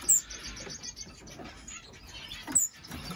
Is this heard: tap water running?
no